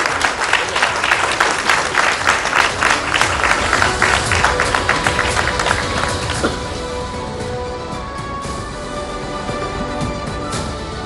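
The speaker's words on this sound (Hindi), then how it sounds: "जोरदार तालियों के साथ आप सभी उनका स्वागत करें" Audience applause welcoming a news editor onto a stage at a televised discussion event, a sustained round of clapping from a large crowd that thins slightly toward the end.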